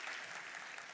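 A church congregation applauds after a choir's worship song, steady broadband clapping from many hands filling the whole second at moderate level, with no voices over it.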